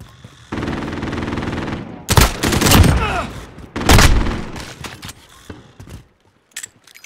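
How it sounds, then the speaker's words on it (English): An enemy sentry gun fires in Call of Duty Modern Warfare, with loud bursts of rapid automatic gunfire and booming impacts after a steady mechanical whir, each burst dying away before a final faint clatter. "Enemy sentry gun active."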